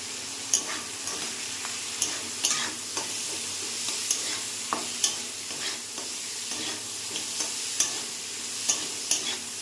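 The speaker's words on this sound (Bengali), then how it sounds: "তো চলো এটা ভাজা ভাজা হয়ে যাক" Onions and green chilies fry in a pan with a steady sizzle, broken by repeated scraping stirs at a loose, roughly regular rhythm, close and clear with no talking.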